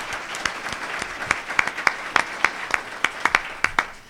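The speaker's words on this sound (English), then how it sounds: "let's applaud him" A small audience at a political candidates' debate gives a few seconds of applause, with sparse, distinct hand claps in an uneven, lively rhythm at moderate volume.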